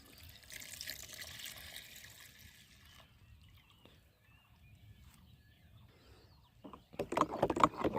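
Pesticide being poured into a drum of water for spraying watermelon plants, a soft trickling pour at first, then quiet stretches, ending in a louder splashing gush.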